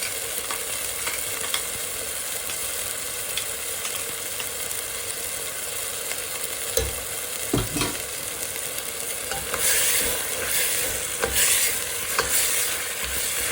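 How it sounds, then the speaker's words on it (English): Ground garlic and ginger fry in hot oil as the base for goat biryani, a steady close sizzle broken by stirring scrapes and clinks, growing louder and busier toward the end. "Now we are adding the garlic and ginger that we have grinded them"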